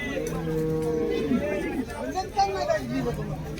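Holstein Friesian cows lowing at a busy cattle market in Baramati, with a few drawn-out moos rising above a steady crowd babble and nearby voices talking throughout.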